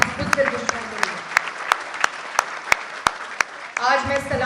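A rally audience claps in a steady, evenly spaced rhythm of sharp beats, with a voice running underneath the clapping throughout.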